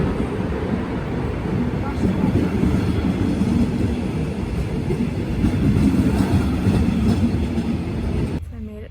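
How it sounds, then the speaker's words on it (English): A Deutsche Bahn train rides on the rails toward Munich, heard from inside the carriage as a loud, steady rumble and roll that continues without a break and ends abruptly. "Train."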